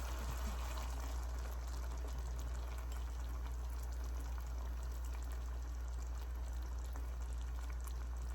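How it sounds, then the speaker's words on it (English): Sweet and sour sauce pours into a pan with melted butter, a faint, continuous liquid rush with a soft bubbling edge that never breaks. "Now we're gonna add our sweet and sour."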